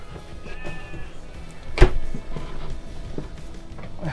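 A single loud, brief sheep bleat cuts through steady background noise partway through, with no one talking, at the NEC Motorhome Show.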